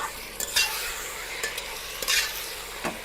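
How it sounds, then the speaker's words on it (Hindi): Mutton stirred through browned onions in a frying pan, with a steady sizzle and a few sharp scrapes of a spoon against the metal, close and with no talking. "मटन को मिक्स करेगा।"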